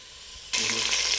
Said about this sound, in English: we're going to brown them for about 3 to 4 minutes each side